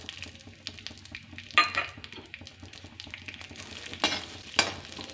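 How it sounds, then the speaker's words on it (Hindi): Green peas frying in hot oil while being stirred, a light sizzle punctuated by several sharp scraping and clinking strokes of a spatula against the pan, close and without talk. "तो ऑयल हमारा हो चुका है गरम और हम इसमें डाल देते हैं मटर को।"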